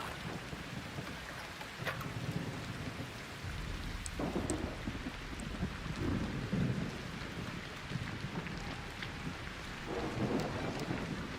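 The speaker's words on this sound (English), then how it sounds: "an electromagnetic storm is currently raging over topside. Beware the lightning strikes if you're outdoors." Rolling thunder from an electromagnetic storm in the video game Arc Raiders, with deep rumbles swelling and fading over steady rain patter, loud and continuous with no talk.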